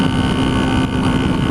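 A 1976 Honda CB125S motorcycle cruising in sixth gear at speed, a loud steady engine drone with a constant hum, heavily buffeted by roaring wind noise over the microphone.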